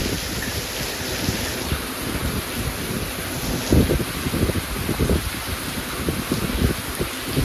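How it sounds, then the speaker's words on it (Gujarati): Heavy rain falling at night, a dense, constant hiss with gusty wind noise and a few louder splashing bursts, close and loud with no talking. "હજુ પણ વરસાદ ચાલે છે"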